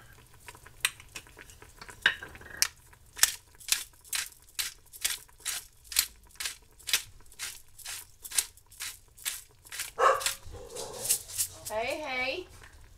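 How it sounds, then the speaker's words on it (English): A dog in a kitchen lets out a rapid series of sharp barks, steady and fairly close, while food cooks in a pot with garlic and pepper; a person speaks briefly near the end. "Dog's getting hopped up."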